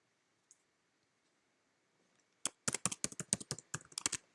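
Password being typed on a computer keyboard: after a near-silent pause, a close, quick burst of about a dozen crisp key clicks in an uneven rhythm.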